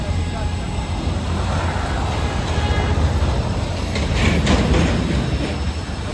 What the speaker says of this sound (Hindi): पीछे ट्रैफिक का